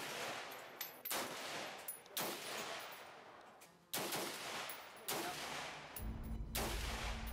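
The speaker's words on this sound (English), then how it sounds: "civilians get a chance to fire an AK-47 here" AK-47 rifle fire at a shooting range, a series of sharp loud single shots spaced roughly a second apart, with other guns popping in the background and a low mechanical drone joining near the end.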